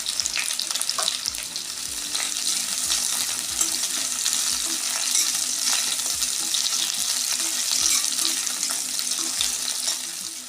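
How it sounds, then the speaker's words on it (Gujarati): Pieces of bitter gourd fry in hot oil with a steady, dense sizzle and crackle that runs the whole time, close and fairly loud, with faint scrapes now and then. "તો આપણે બે ભાગમાં કારેલા કરી અને એને તળી લેશું પહેલાં"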